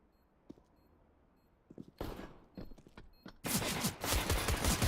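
Gunfire in the tactical shooter Rainbow Six Siege, during a competitive match: a few sharp isolated shots early, then rapid clustered bursts building into a loud sustained volley near the end.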